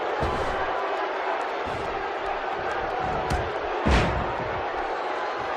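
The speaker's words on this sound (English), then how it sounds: "by the sounds of it, this crowd is ready for anything that happens tonight." A wrestling arena crowd in WWE 2K17 during a 40-man Royal Rumble keeps up a continuous loud roar, swelling briefly near the end, while a commentator talks over it.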